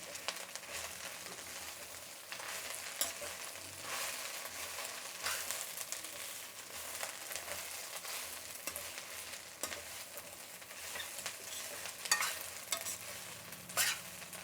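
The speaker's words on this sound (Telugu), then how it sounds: "ఈ మునగాకు అనేది బిన్నే వేగిపోతుంది." Drumstick leaves frying in a pan with a steady crackling sizzle, stirred now and then with scraping strokes, close and fairly quiet, with no talking.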